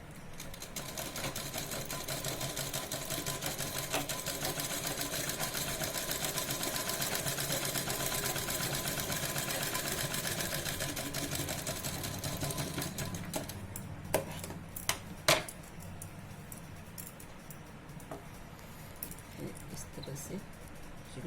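Sewing machine stitching the curved seams of an A-line nighty, running in a steady continuous whir for about thirteen seconds, then stopping, with a few short taps and handling clicks afterward.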